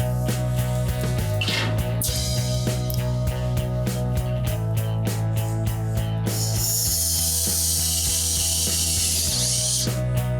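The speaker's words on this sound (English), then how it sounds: "I'm gonna go through and start putting some set screws in place to hold the rest of the trunk floor in" A hand ratchet clicks in rapid bursts while driving set screws into the trunk floor of a totaled barn-find Super Bee, with sprays of metallic hiss between strokes, close and loud.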